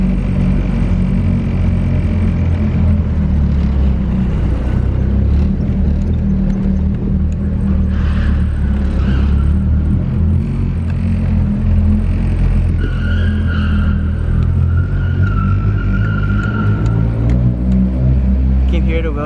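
A car with a welded differential drives along with a loud, steady low engine rumble and road drone throughout, while people talk over it inside the cabin.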